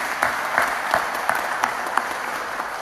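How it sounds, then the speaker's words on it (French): Applause from an audience at a bus-industry gathering, a steady wash of clapping with a few sharper claps standing out, moderately loud and continuous for a few seconds. "je voudrais personnellement, en tout cas, vous applaudir tous"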